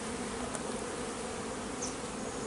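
Honeybees buzz steadily around a small, unsmoked hive during syrup feeding, a dense, continuous drone that stays close and fairly loud throughout, with no talk.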